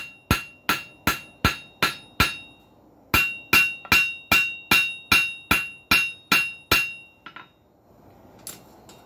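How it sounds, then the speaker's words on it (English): Rapid, evenly spaced hammer blows planishing metal for a hinge pintle ring sharply, about fifteen strikes in a steady rhythm, then a few lighter taps and quiet. "Little planishing."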